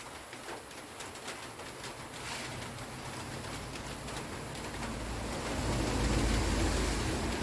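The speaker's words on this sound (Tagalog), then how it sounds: "Ngayon, ulan na naman." Rain falls outdoors as a steady hiss of broadband noise that grows louder toward the end, with a pigeon cooing faintly now and then in the background.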